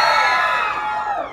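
Convention hall audience at a horror film panel screams together on cue, a loud, sustained wall of high-pitched crowd shrieking and whooping that holds steady, then tapers slightly near the end.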